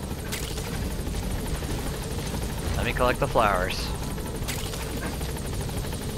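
Helicopter rotor drone in the Metal Gear Solid V: The Phantom Pain video game, a steady low rumble throughout with someone talking over it and sharp game effect sounds near the middle.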